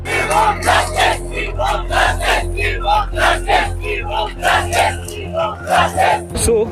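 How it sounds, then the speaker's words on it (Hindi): A large crowd gathered at a student protest over a paper leak, with dense, loud, continuous voices close by and bursts of rhythmic shouting rising above the steady mass of chatter. "आज के दिन तो काफी भीड़ है।"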